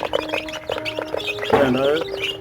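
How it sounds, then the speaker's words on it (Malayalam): High, thin chirps from month-old native and black chicken chicks, with bursts of quick peeping calls and a faint background of other birds, close by. "ഇതാണ് കുഞ്ഞുങ്ങൾ ഇതിപ്പോൾ ഒരു മാസം പ്രായമുള്ള കുഞ്ഞുങ്ങളാണ്"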